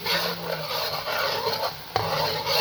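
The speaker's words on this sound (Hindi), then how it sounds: "प्याज फ्राई हो रहा है" Crushed onions frying in oil inside a pressure cooker, a steady soft rasping sizzle close up with one brief sharp tap partway through.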